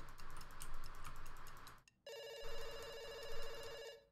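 Ringing from a telephone in the game Dr Langeskov starts after a short silent break and holds a steady electronic trill to the end, following a stretch of background noise.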